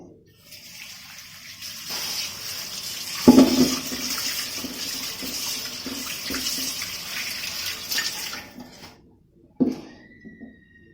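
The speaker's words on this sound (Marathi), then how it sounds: "हे आता फक्त स्वच्छ धुवायचं काम करणार आहे मी" Tap water runs steadily into a sink for several seconds, splashing as cut surmai and saundale fish pieces are rinsed under it, with a brief louder gush and a quiet pause near the end.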